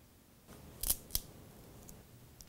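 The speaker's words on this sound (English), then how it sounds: "Cut your dowel along this line," A cake dowel being cut to length with scissors or cutters while stacking tiered cakes: two crisp, close snips about a quarter second apart, followed by faint handling noise in a quiet room.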